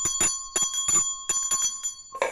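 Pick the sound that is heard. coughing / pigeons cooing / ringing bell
ringing bell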